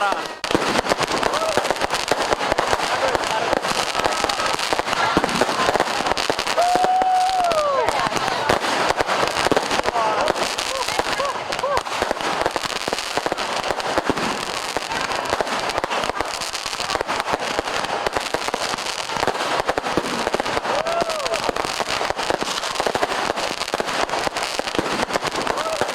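Dense crackling fireworks pop and burst continuously with a whistling rocket rising midway, crowd noise mixed in, loud and sustained throughout, at a New Year 2024 celebration in Lapangan Puputan Badung, Bali.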